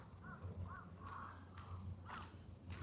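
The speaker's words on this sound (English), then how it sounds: "The crows are hungry probably." Crows caw several times in Tokyo on a sunny morning, harsh calls spaced out over a few seconds, moderately distant over a low steady city hum.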